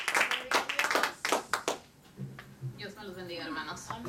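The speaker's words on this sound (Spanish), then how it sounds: "Denle un aplauso al rey antes que se enfríe esta cosa." A church congregation breaks into scattered hand claps during a Spanish-language service. The claps are fairly close and uneven over the first two seconds, then thin out as voices carry on underneath.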